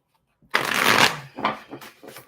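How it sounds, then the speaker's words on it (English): Tarot and oracle cards being shuffled: a loud, dense riffle of card stock up close, followed by several shorter flicking bursts as the deck is handled again. "I will also pull a Romance Angels card."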